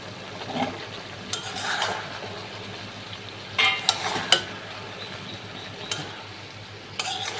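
Cut potatoes being added to chicken tehari in a pot and stirred, soft sizzling under scattered scrapes and knocks of a spoon against the pot, with a louder cluster of clatters midway.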